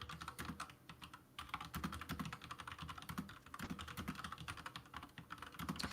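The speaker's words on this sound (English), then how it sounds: "I'll just type it out in my chat anyway" Rapid, steady clatter of a computer keyboard as a chat message is typed, dense uneven keystrokes close and clear for the whole stretch with no talking.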